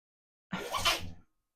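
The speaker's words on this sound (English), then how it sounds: "My dog's sneezing" A single short, sharp sneeze from a dog, close by and fairly quiet, with silence before and after.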